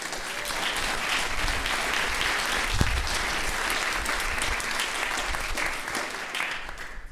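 Steady, full applause from a jazz concert audience, dense and even throughout without pauses, moderately loud with a faint thump partway through.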